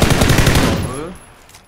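A burst of automatic gunfire in the PUBG battle royale game, a loud, rapid string of about a dozen shots fired in quick succession, then trailing off into echo and fading tail.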